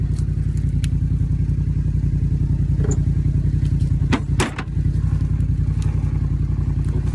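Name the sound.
ATV engine backing up to dump branches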